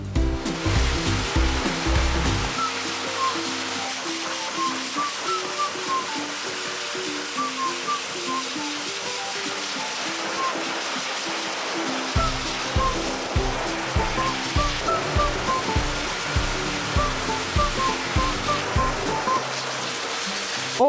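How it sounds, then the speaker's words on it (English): A loud hair dryer blows steadily while a matted dog is groomed and shaved, its continuous rushing roar filling the room under bright, looping music. "The hair dryer is loud and can damage hearing if the ears are not protected."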